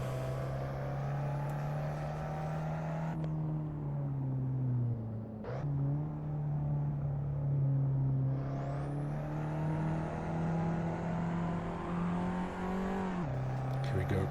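Race car in the Assetto Corsa racing game droning at high revs, the engine tone holding steady with quick gear-shift dips and rising pitch sweeps, a continuous mechanical whine throughout.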